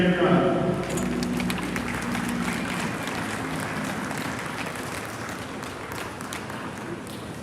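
Crowd applause for exhibitors at a junior livestock show, steady clapping from many hands in an arena, loudest at the start and then holding on for several seconds while a voice speaks over it.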